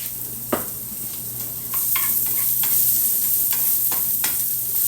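Minced garlic sizzles steadily as it is stirred into a pot for a ham and jicama soup, with a few sharp utensil scrapes over a constant frying hiss that grows louder partway through.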